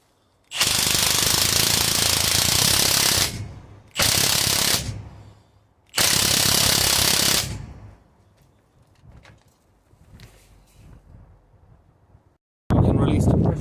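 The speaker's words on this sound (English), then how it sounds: "use our impact wrench here to tighten that up" Impact wrench tightening a nut on a Ford Fiesta front suspension during a coil spring and shock absorber job, three loud close rattling bursts of a few seconds each, then quiet workshop noise and a final burst.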